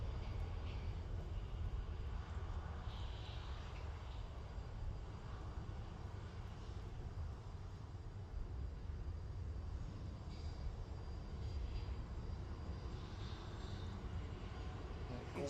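A private jet at Manchester Airport gives a steady, broad engine roar that holds at a fairly constant level through the whole stretch, with a deep low rumble and faint voices heard under it.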